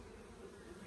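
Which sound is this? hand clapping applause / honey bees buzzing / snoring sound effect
honey bees buzzing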